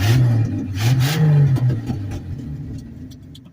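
A reliable old truck engine starts hot, cranking briefly and catching with a couple of quick revs before settling toward a low idle, close and fairly loud.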